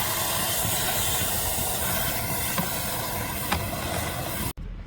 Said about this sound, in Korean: 이렇게 친환경 세정제를 고압으로 쌓아서 이렇게 도포를 해놓고